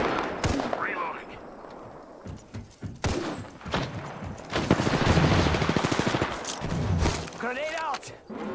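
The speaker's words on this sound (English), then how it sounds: "Firing on subjects. Getting shot." Rapid gunfire bursts in a shooter video game, loud and near, cracking in irregular clusters with thuds between volleys, with a voice talking over much of it.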